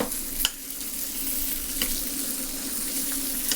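Bacon frying in a pan, a close, continuous crackling sizzle with occasional sharper pops, steady and fairly loud throughout.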